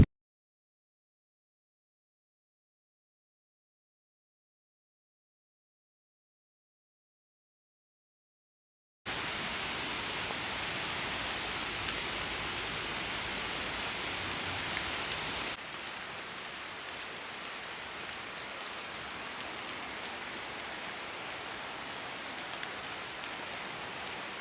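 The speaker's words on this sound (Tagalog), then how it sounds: "you can hear the water" Water flowing near a waterfall on a nature hike, a steady faint rushing wash that begins after several seconds of silence and softens slightly partway through.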